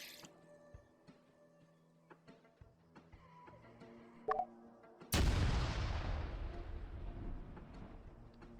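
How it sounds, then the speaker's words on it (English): A landmine in an open-world zombie video game is triggered by a zombie: a sudden loud blast bursts in after quiet ambient game sounds and a brief tone, then rumbles and slowly decays over several seconds. "A zombie just set off a fucking mine."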